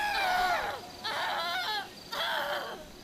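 Zombies shriek in GTA V: three loud, wavering screams in quick succession, each falling in pitch, close and alone.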